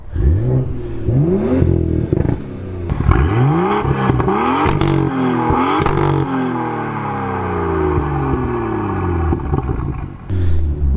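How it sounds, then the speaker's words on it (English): A BMW M2 engine idling and being revved repeatedly, each blip rising sharply in pitch then falling back, loud and close, with some mechanical clatter between revs. "So this is what the M2 sounds like."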